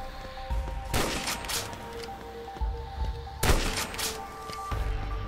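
Sniper rifle shots ring out in the Pixel Strike 3D video game during a snipers-only match, with two sharp, loud cracks about two and a half seconds apart above a steady hum of game ambience.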